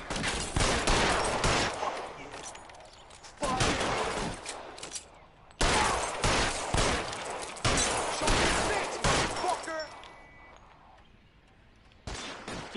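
Gunfire in the L.A. Noire video game during a shootout at an electroplating plant: repeated bursts of loud, close shots in clusters, separated by brief lulls, with no talking.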